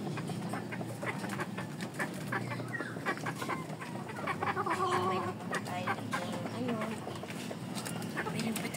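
Chickens and roosters kept in separate cages cluck and call continuously in a busy backyard coop, with bird noise layered densely throughout and some faint human voices mixed in.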